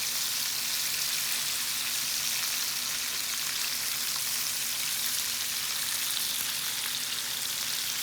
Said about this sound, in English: So now we will let it fry on second side probably another 2 to 3 minutes